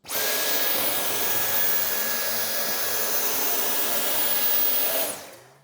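A Dyson V10 Animal cordless vacuum running on boost mode sucking up powder, a loud steady high-pitched whine held for about five seconds before it cuts off and spins down.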